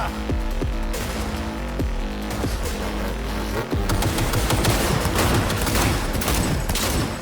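Rapid bursts of automatic gunfire crackle in Cyberpunk 2077, dense and loud, with short volleys in the first seconds building into continuous heavy shooting over a steady low rumble.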